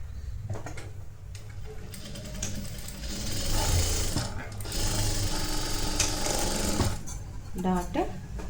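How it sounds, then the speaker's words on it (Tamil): A sewing machine stitches a blouse, running in a steady whirring, rattling stretch with brief pauses and speeds changing, close and fairly loud. "அதுக்கப்புறம் டாட் ஸ்டிச் பண்ணணும்."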